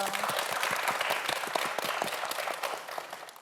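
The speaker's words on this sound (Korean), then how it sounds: "여러분 박수 한번 보내주세요." Studio audience applause on a televised quiz show for a student contestant, a steady dense wash of clapping that holds for several seconds and gradually tapers.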